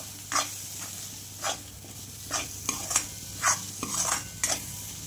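Spices sautéed in a pan for a village-style mutton curry, with repeated rhythmic scrapes of a spoon stirring through the pan over a steady low sizzle, close and fairly loud.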